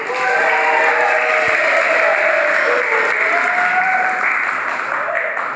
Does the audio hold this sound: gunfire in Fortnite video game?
no